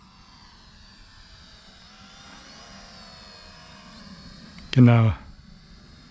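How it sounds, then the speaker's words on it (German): A small Maginon QC 800 SE quadcopter drone's motors whine and hum steadily with layered tones outdoors, and a short spoken word cuts in near the end. "Interessant ist, wenn die Drohne auf einen zukommt."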